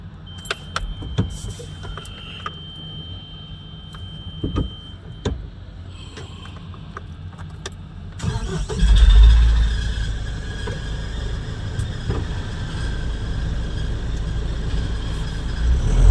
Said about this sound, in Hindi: शटर खुल गया है और गाड़ी अपनी करते हैं स्टार्ट